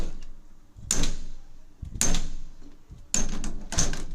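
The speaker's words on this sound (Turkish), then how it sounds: "Kapı örtüyorum. Örtülmüyor." Interior door that will not latch shut being pushed closed again and again, giving three separate bumps and rattling knocks spaced about a second apart in a quiet room.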